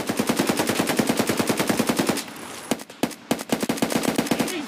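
Automatic weapon fire from an Escape from Tarkov gunfight: a fast, even burst of loud shots for about two seconds, then a short pause and scattered single shots and a second quick burst.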